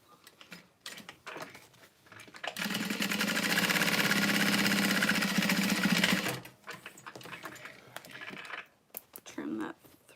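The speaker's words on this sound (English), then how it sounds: "I'm just sewing all the way around the outside" A sewing machine stitches all the way around the raw edges of a fabric piece in a U shape, one steady close run of about four seconds, with quiet handling and talk before and after.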